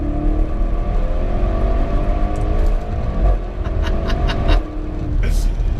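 A Porsche Panamera Sport Turismo accelerates flat-out, its engine a loud, sustained roar with rising tones heard from inside the car, and a few brief clicks or ticks toward the end.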